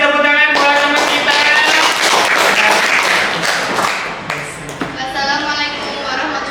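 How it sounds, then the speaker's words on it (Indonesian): Classmates in an Indonesian eighth-grade moral education lesson clap for a fellow student, with loud, close, uneven hand claps, a teacher's voice speaking over them, and the clapping thinning out toward the end. "tepuk tangan buat teman kita"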